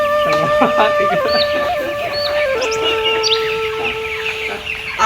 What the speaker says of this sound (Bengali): এই খামারেরটার মধ্যে প্রায় দুই হাজার মুরগি আছে